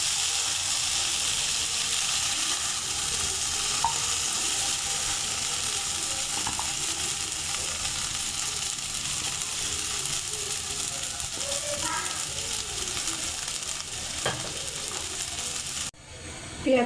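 Cauliflower, potato and tomato fritters frying in hot oil give a steady, even sizzle throughout, with a few faint clicks and a brief handling clatter near the end.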